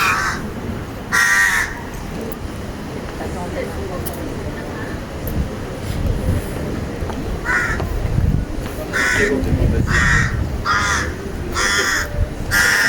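Crows in Greyfriars Kirkyard give loud, harsh caws in short bursts, some in quick doubled and tripled runs, standing out over a steady outdoor rumble while a person talks at intervals.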